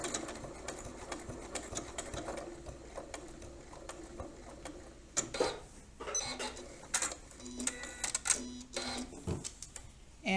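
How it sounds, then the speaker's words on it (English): A sewing machine back stitches along bias binding in short bursts of close mechanical clatter, starting and stopping with pauses and clicks in between. "Now let my machine do the rest. I'm going to back stitch."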